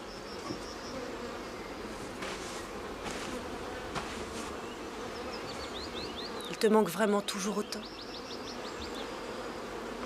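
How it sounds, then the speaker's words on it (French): Bees buzz continuously around the listener, with faint insect tones and chirps in the background and a brief stretch of French speech partway through. "Les abeilles sont parfois la seule chose vivante que j'observe autour de moi."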